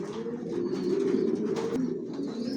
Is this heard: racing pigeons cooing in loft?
yes